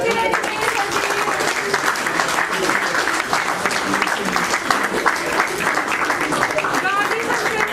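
Loud, continuous crowd applause at a retirement ceremony for a chief manager of Punjab National, many hands clapping steadily throughout with people talking underneath.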